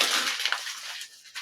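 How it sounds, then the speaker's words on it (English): A sheet of paper is crumpled into a ball right beside the microphone, a brief, loud, crackling rustle that fades over about a second. "So if I take this sheet of paper and I roll it up or crumple it up"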